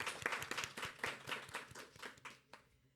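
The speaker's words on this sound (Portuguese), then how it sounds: "Uma salva de palmas para o Matheus." Quiet applause from an event audience at an architecture talk, a few seconds of scattered, close hand claps with distinct individual strikes that thin out and fade toward the end.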